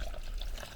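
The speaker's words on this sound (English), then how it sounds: "So what I'll do is I'll add the water." Water poured onto a dry lime slake mix, a short, close splashing trickle that runs steadily for under a second without talk.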